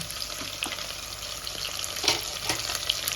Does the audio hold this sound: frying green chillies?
yes